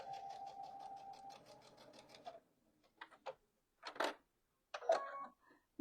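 A sewing machine back stitches the side seams of a garment: a fast, steady run of close needle clatter, then a pause and a few short bursts of handling and a brief restart, quiet and close.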